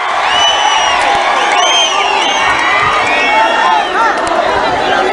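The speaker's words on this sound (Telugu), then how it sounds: "గట్టిగా చప్పట్లు కొట్టి హర్షాన్ని ఆమోదాన్ని తెలియజేయాలి" A large political rally crowd roars, cheers and whoops continuously at close range, a dense wall of voices holding steady throughout.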